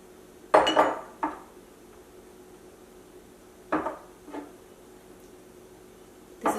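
Sugar, cinnamon, nutmeg and ground cloves are mixed in a glass mason jar, heard as a few separate bursts of clinking and rattling against the glass with quiet gaps between.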